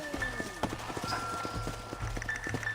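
Hooves of horses in Red Dead Redemption clip-clop in a clear, regular rhythm on hard ground, close and distinct over a low rumbling game background.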